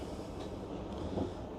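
Train running along the rails on a route out of London toward Basingstoke, a steady low rumble with a faint rolling clatter, close and continuous throughout with no talking.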